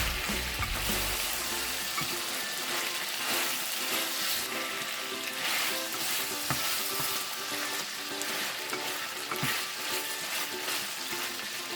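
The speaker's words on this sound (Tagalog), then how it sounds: "Muling prituhin ang beef ng 1 minuto." Beef sizzles hard in a hot pan for Filipino bistek, a dense continuous frying hiss with scattered scrapes and clinks of stirring, close and steady throughout.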